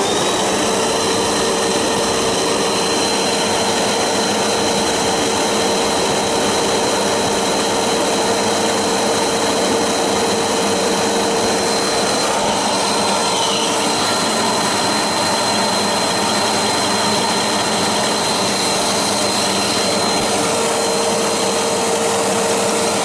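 Panasonic MC-UG47 upright vacuum cleaner running with a new HEPA filter, a loud, constant whooshing roar with a thin steady whine, unbroken throughout.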